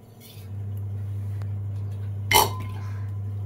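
Soaked dal goes into a metal pressure cooker in a kitchen. A single sharp metallic clink rises over a steady low hum that carries on underneath.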